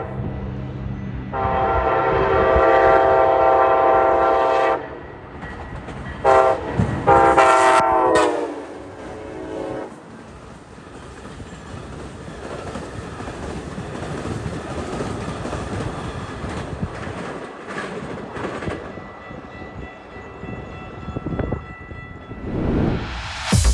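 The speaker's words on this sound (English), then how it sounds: "Amtrak's Empire Builder charges through on its way to the Pacific Northwest with 2 brand new ALC 42s." Amtrak's Empire Builder passenger train, led by two new ALC 42 locomotives, charges through Rondout, Illinois, sounding loud sustained horn blasts before and as it passes, followed by a long rumbling roar of rolling cars.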